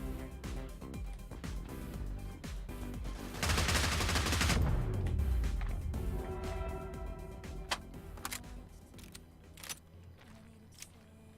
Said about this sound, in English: let's just use the fun gun